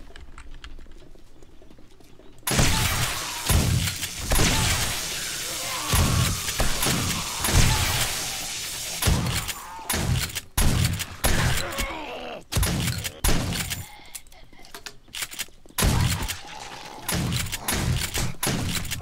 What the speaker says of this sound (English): I think we're gonna deal with them with a shotgun.